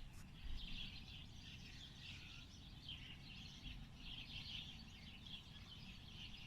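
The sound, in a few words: flocks of birds chirping in trees in the morning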